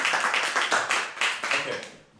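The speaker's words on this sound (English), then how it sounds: "let's just give Diane a round of applause for that fantastic introduction" Audience applause follows the introduction of a speaker at a self-belief talk: dense, steady hand clapping with rising and falling swells throughout, fairly close and lively, with no one talking over it.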